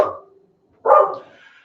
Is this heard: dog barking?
yes